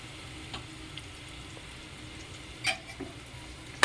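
Tadipatri dum biryani being stirred and mixed in a pot, heard as a faint, quiet bed of soft scraping broken by a few sharp clinks near the end.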